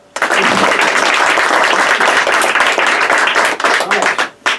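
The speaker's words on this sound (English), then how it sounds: "This is the one time you can applaud the candidates." A crowd at a ward political candidates' forum claps loudly and continuously for several seconds, a dense wash of applause that thins briefly near the end, with a voice faintly mixed in.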